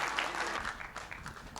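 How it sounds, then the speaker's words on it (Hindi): Brief burst of audience applause welcoming a health coach speaker at an event, dense clapping from a crowd that thins out over a second and a half. "तालियां बजा के स्वागत करें पंकज अग्रवाल का।"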